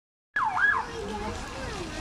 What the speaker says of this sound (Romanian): Uite poliția, Marc.